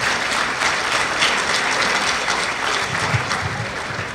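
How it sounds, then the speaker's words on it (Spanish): Audience applause at an international law congress at Universidad Gerardo Barrios, welcoming a guest jurist; sustained, dense clapping from a crowd that stays loud and even throughout, with no speech. "Un aplauso, por favor."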